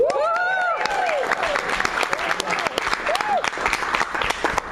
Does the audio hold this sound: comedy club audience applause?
yes